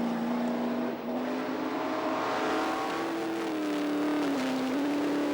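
A rally car at full throttle on a sprint stage, engine roaring loud and close with a rising, sustained howl, briefly dipping near the start before pulling hard again through the gears.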